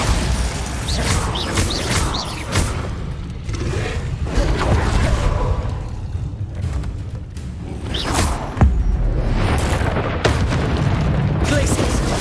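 Bombarda spell explosions in the Hogwarts Legacy video game, repeated heavy booms and bursts with whooshing spell effects, loud and close amid busy combat noise, with a voice calling out over them.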